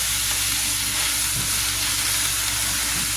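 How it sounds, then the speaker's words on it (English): Fresh greens frying and cooking down in a hot pan, a loud, dense, steady sizzle and hiss heard close up with no voices. "I'm just going to start adding the greens right to this. And then they'll start cooking down"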